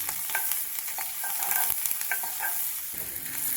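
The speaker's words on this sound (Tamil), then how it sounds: "அடுப்பை சிம்மில் வச்சு வெங்காயத்தை நல்லா வதக்கிக்கலாம்" Small onions and curry leaves sizzle and crackle in a hot pan over low heat, with scraping stirring strokes throughout and no voices.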